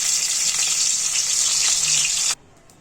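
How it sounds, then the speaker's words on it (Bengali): Broken crab pieces fry in a pan with a bright, steady hiss of hot oil, close and loud, cutting off abruptly near the end. "তো আমার সব ভাজা হয়ে গেল।"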